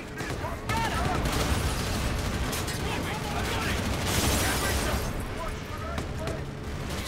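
A shotgun fires repeatedly in the video game Call of Duty: Infinite Warfare, loud booming blasts and gunfire coming thick and fast, while excited voices talk over the action.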